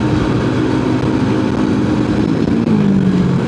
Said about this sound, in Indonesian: Ada suara knalpot brong.